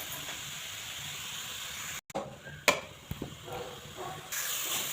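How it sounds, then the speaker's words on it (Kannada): Carrot for carrot halwa frying in oil, a steady broadband hiss with a brief break and a few clinks of stirring, close and fairly quiet throughout. "ಇದನ್ನು ಎಣ್ಣೆಯಲ್ಲಿ ಚೆನ್ನಾಗಿ ಫ್ರೈ ಮಾಡ್ಕೊಬೇಕು"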